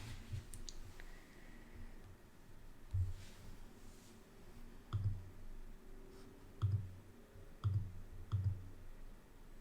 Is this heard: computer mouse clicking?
yes